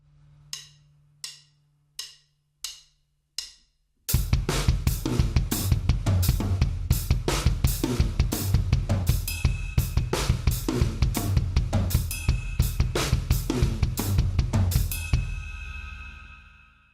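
Drum kit fill variations with the left hand on the hi-hat: five evenly spaced clicks count in, then a loud, dense, steady pattern of close hits runs to a ringing cymbal fade.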